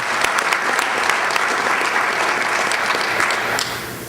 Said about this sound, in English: Let's give our Senator a big round of applause.